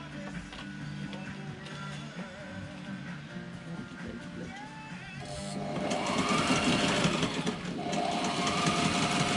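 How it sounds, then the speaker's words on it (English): A sewing machine hums and chatters steadily, its motor growing louder and busier partway through as it stitches the lower edge of heavy sail cloth. "Here we are sewing the lower edge."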